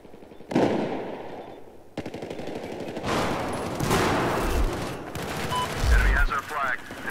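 Rapid machine gun fire in the video game Battlefield 4, loud dense bursts of automatic shots and impacts over roughly seven seconds, with a player's voice talking over the gunfire.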